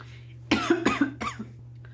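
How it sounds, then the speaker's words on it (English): A few harsh, close coughs in quick succession over a low steady hum, then a brief quiet pause. "I just, for some reason, went into a coughing attack"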